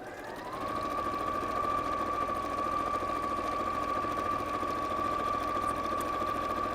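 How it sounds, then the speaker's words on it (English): A sewing machine stitches two fabric pieces together, starting after a brief pause and then holding a steady, close, continuous whirring hum with no voices. "So I'll need to sew those 2 pieces together just from that mark around the bottom."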